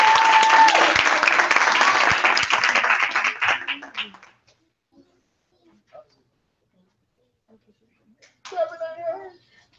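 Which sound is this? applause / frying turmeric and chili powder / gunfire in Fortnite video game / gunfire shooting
applause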